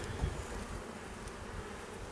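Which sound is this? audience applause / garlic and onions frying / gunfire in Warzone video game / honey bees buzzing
honey bees buzzing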